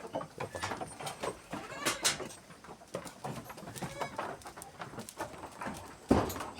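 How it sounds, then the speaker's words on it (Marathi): Goats bleat and shuffle as they file into their shed and go to their own places, several calls overlapping at close range with one louder bleat near the end. "सगळ्या शेळ्या मित्रांनो ज्याच्या त्याच्या जागेला जातात"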